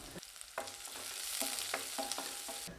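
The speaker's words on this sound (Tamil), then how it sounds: "இதெல்லாம் நல்லா வதங்கட்டும்." Onions and garlic sizzle steadily in a hot pan, with repeated scraping clinks of a spoon stirring every half second or so.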